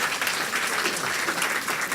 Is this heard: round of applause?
yes